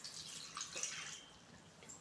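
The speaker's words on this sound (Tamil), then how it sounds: "தண்ணி வந்து ஊற்றுறோம்." Water poured into a pan of siru keerai greens cooking with garlic and tamarind, a soft splashing trickle that swells briefly and fades, quiet and alone.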